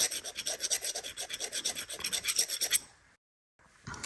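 A file rasps back and forth to deburr a threaded hole on a part from a 67-year-old Wells band saw, quick rhythmic close strokes for about three seconds, a brief silence, then one more stroke.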